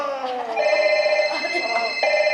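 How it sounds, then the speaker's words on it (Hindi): A telephone rings nearby with a loud, steady electronic warble that repeats in quick pulses for a couple of seconds. "फोन बज रहा है।"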